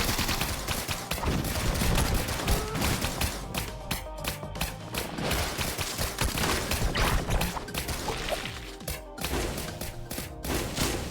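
Gunfire in the roguelike video game Risk of Rain Returns: dense, sustained rapid shots and impacts for several seconds, loud and continuous with chaotic clatter, and brief thuds scattered through it.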